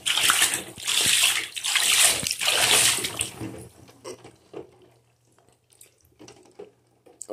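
Water sloshing and splashing in waves around a toy bullet train sunk in a tub, loud and busy for about four seconds, then dropping to faint trickles and drips.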